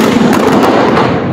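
Fireworks exploding on Easter Resurrection night in Greece, a loud continuous barrage of crackling bursts and thuds with sharp cracks scattered throughout.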